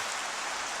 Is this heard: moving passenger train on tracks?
no